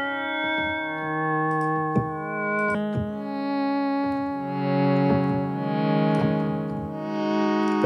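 Brass patch on an Arturia SQ80 V software synth, sustained harmonic chords held alone with a few note changes and soft attacks, steady and fairly loud with a slightly buzzy, processed tone.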